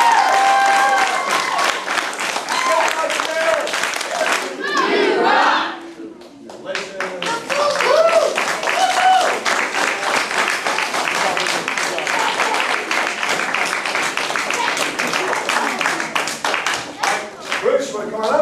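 A crowd applauds martial arts students after belt testing at a family martial arts center, loud continuous clapping with a brief lull midway before it resumes, some voices mixed in.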